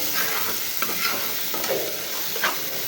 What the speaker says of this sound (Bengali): এই তো এখানে আমার কুমড়ো ভাজিটা প্রায় হয়ে এসেছে